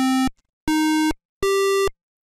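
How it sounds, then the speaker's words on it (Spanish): Three bright, buzzy 8-bit NES-style electronic notes of a major or minor chord play one after another, each a little higher, sustained about half a second with short gaps, like a chiptune arpeggio. "Un arpegio se puede definir como la ejecución no simultánea de las notas de un acorde"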